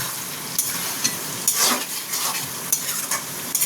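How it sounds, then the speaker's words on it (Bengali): Chili chicken with a splash of soy sauce sizzles in a pan while being stirred, with a steady frying hiss broken by scraping clinks of the utensil against the pan, close and alone. "দিয়ে এবার এটাকে নাড়াবো"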